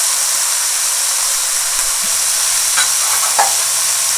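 Garlic pieces, crushed slightly and left large, frying in a pan for a tomato sauce, giving a steady sizzling hiss with a few brief louder crackles near the end, close and without talk.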